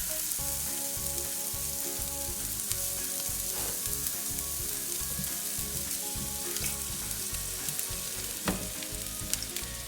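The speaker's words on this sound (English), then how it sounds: "the oil is pretty hot, so we just go ahead and lay it on like so" Kofte meatballs sizzle steadily in hot oil in a large pan, a continuous loud crackling hiss with small pops, close and with no talk.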